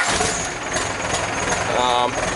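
Cummins 4BT diesel engine swapped into a Ford F150 and wired to a push-button start, running with a steady, rough mechanical clatter close by and no speech over it.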